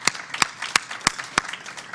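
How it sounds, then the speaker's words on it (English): A brief round of applause at a telehealth panel event, heard as a handful of sparse, distinct claps spaced across two seconds, fairly faint and without any talk. "a quick round of applause for Jason, Mary, Neil"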